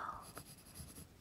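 A pencil sketches on paper during a relaxed art class, making soft, close scratching strokes in short bursts. It is quiet and intimate, with no talk over it.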